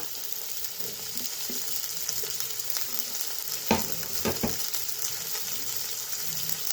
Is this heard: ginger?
yes